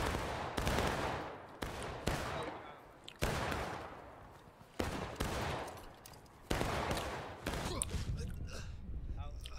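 Airsoft guns fire in rapid volleys during an outdoor field game, with bursts of sharp clattering shots, several separate strings of fire with short pauses between them, nearby and fairly loud.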